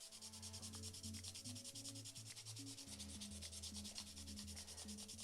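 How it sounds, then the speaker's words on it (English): A plastic 1/35 scale Takom T-54B model tank kit is sanded by hand in quick, steady back-and-forth rasping strokes, close and continuous, with no talk. "Everything's just gonna get sanded down."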